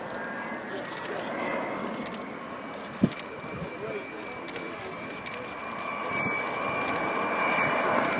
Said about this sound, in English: So the wheels down now, all 18 wheels as she flies past.